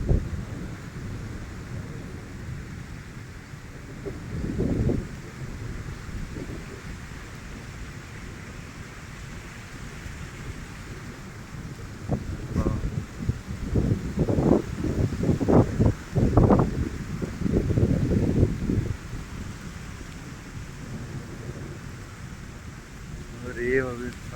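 Wind blows outdoors during the rainy season, a low rumbling hiss with several stronger gusts buffeting the microphone in the middle stretch, against a quiet background.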